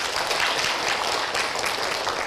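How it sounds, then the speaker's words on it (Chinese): Listeners at a talk clap in encouragement, a soft, even wash of applause with no breaks, heard at a distance and fairly faint. "来，掌声鼓励"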